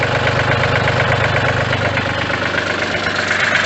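A backhoe's diesel engine idles close by, a loud, steady clattering rumble with a rapid, even knock throughout.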